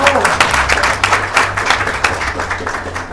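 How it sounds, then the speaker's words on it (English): Applause from an audience at a cable and fiber partnership launch event, honoring the CEO; steady clapping fills the room at moderate loudness over a low hum, with some voices mixed in. "Another round of applause for the CEO."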